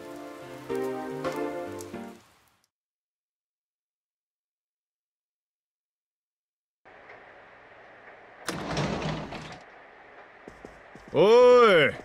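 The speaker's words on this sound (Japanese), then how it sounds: "幸いこの雨今日も夜まで降り続くみたいだ。" Rain falls in the video game Persona 4 Golden as a steady hiss. It follows a short music phrase and a stretch of silence, then is joined by a brief noisy burst and some chirping game sounds at the end.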